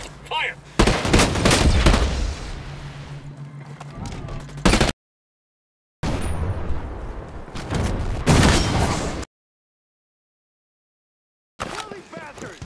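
Gunfire in the tactical shooter game Ghost Recon Breakpoint: loud bursts of shots and booms in two stretches separated by dead silence, mixed with voices talking.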